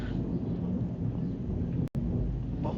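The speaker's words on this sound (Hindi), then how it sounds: "बहुत ज़्यादा बारिश हो रहा है यार" Heavy rain pours down steadily with thunder rumbling through it, a loud, dense wash of noise that cuts out very briefly near the end.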